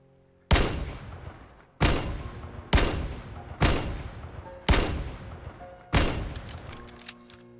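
Six loud, sharp pistol shots from the VR shooter Vail, fired singly at a steady, slightly uneven pace, each with a short ringing decay; no talking.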